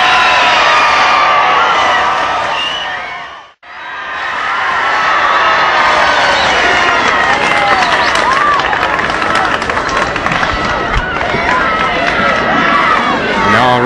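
Crowd noise from a dense street crowd along 8th Street in Fort Worth, 1963, as a presidential motorcade passes: sustained loud cheering, shouting and applause after a brief dropout, with announcer voices mixed in.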